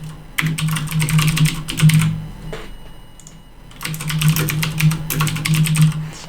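Computer keyboard keys clatter in two quick, close bursts of steady typing as a support ticket message is written, with a short pause between the runs.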